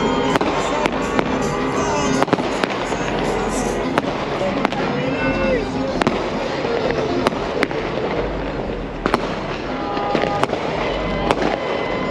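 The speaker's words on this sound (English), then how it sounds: "Lighting fireworks." Fireworks and firecrackers set off on a Chicago street during a Mexican Independence Day celebration, a rapid irregular series of sharp loud bangs and crackles over a noisy crowd with voices talking and shouting.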